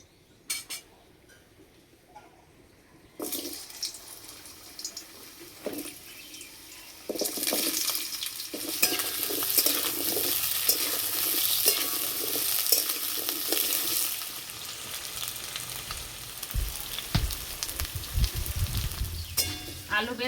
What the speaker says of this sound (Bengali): প্রথমে আলু ভেজে নেব।